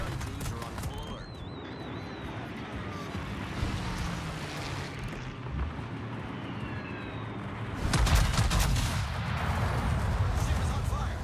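Anti-aircraft guns on a warship in a naval video game keep up a steady patter of distant, rapid gunfire that grows into a louder, heavier barrage near the end, with a voice speaking over it.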